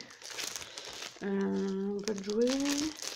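Stampin' Up Broadway Designer Series patterned cardstock paper crinkles and rustles as it is handled, the crisp bursts coming at the start and end with a stretch of voiced sound between them.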